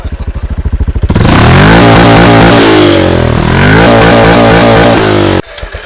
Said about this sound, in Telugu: ఒకసారి దీన్ని ఎగ్జాస్ట్ సౌండ్ విన్నాము.